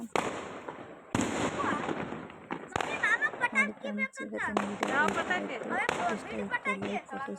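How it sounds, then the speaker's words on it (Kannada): Diwali firecrackers and fireworks crackle and pop in rapid bursts, seen from a home terrace, while people and children talk nearby over the steady festive din. "ಪಟಾಕಿ ಹೊಡಿತಾ ಇದ್ದಾರೆ ನೋಡಿರಿ ಟೆರೇಸ್ ಇದು ಅಲ್ಲೆಲ್ಲ ಆಕಾಶದಲ್ಲಿ ಎಷ್ಟು ಚೆನ್ನಾಗಿ ಕಾಣಿಸ್ತಾ ಇದೆ"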